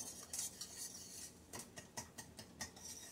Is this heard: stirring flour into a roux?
yes